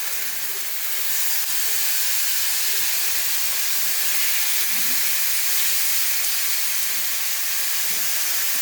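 Paprika-marinated pork chops cook over low heat in a pan with no added fat, giving a steady, even sizzling hiss that holds throughout without talk.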